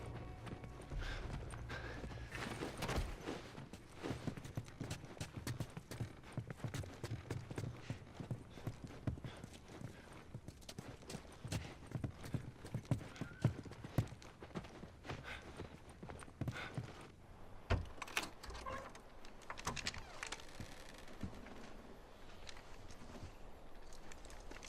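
Horse hooves clip-clop steadily and continuously in the video game The Last of Us, a rapid, even trotting rhythm with occasional louder thuds over faint background ambience.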